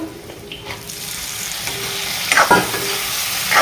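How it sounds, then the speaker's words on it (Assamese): Pork sizzles in a hot pan as it is tipped in and stirred for an Assamese pork and elephant apple (outenga) curry, with steady frying hiss and a few louder scraping stirs near the end. "এতিয়া মই ইয়াতে মাংসখিনি ঢালি দিওঁ"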